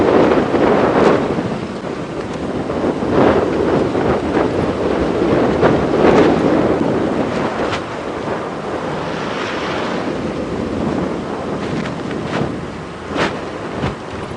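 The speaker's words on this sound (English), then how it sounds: "the wind is attempting to blow my hat off as well" Strong wind buffets the microphone during an open-vehicle safari game drive in the evening, a steady loud roar with gusts rising and falling throughout, no talk.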